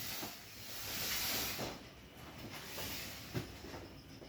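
A mini fogger machine sprays a continuous soft hiss that swells and eases slightly, with a couple of faint clicks, heard fairly quietly with no talking.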